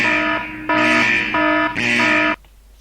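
An EAS emergency alert alarm tone blares in loud, harsh harmonic bursts, three sustained blasts with short breaks between them, before cutting off abruptly.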